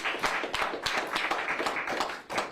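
Scattered claps from a small group at a police press conference, a few hands clapping close by in a loose, uneven rhythm for a couple of seconds.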